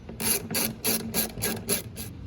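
A hand ratchet snugging bolts, seven quick rhythmic clicking bursts at close range with no voices.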